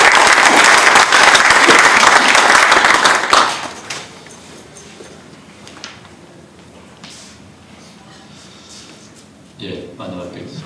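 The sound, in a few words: audience applause welcoming a speaker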